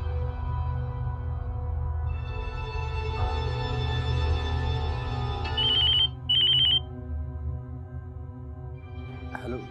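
A telephone rings in a domestic drama scene, a steady electronic ringtone with repeated bursts sounding over a low background hum and music, fairly close and clear.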